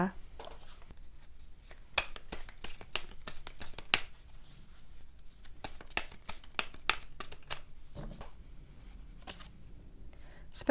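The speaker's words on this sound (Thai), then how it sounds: "ต่อไปแม่หมอเปิดไพ่อร์เคิลเสริมให้นะคะ" Oracle cards are shuffled and laid out, giving quick crisp flicks and snaps in uneven clusters close by, fairly soft, while someone talks quietly in the background.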